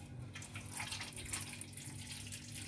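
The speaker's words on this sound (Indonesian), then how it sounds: "Kemudian masukkan air ke dalam panci untuk merebus daun." Water running steadily from a tap into a cooking pot, a soft continuous splashing stream at close range with no voices.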